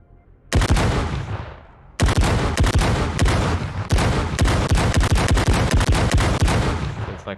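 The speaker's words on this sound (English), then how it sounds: "a semi-automatic shotgun with like burst fire" Rapid bursts from a semi-automatic shotgun with burst fire in a video game, sharp repeated blasts in quick clusters after a brief opening shot, loud and close, continuing almost without pause.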